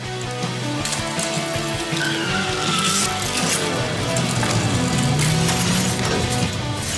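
A car traveling at 100 km/h brakes hard and stops within about 30 metres, tires squealing and skidding with a rising and falling screech over loud road noise, heard alone without speech.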